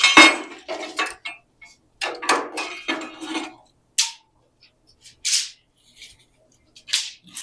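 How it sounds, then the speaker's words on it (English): Metal clinks and clanks as a vice grip is worked loose and taken off the steel rear frame of a 1939 Dodge, a series of short sharp taps and rattles with quiet gaps between them. "maybe need to take that vice grip off of there"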